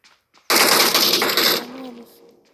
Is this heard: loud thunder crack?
no